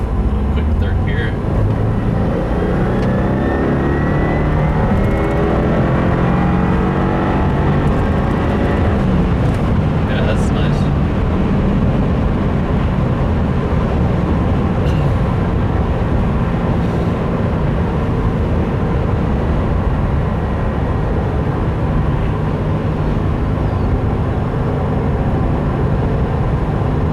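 A 2015 Subaru WRX fitted with a Cosworth high-flow panel air filter pulls hard in third gear on a cold day, its engine droning loud and rising steadily inside the cabin, with a voice talking over it.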